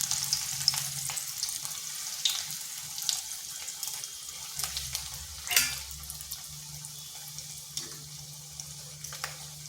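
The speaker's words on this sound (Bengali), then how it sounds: "এইভাবে দুই পাশটা ভেজে নিচ্ছি" Bread slices frying in very hot oil in a wok produce a steady, even sizzle with a low hum beneath and a brief louder burst midway.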